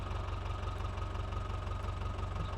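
An HMT tractor engine idles in the Indian Vehicle Simulator 3D game, a steady close diesel chug with an even low pulsing throb and no talk.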